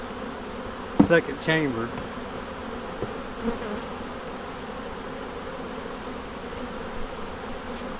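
Honeybees buzz steadily around an open hive during a brood inspection and hive split, with a few louder bees passing close to the microphone and a person speaking briefly over the hum.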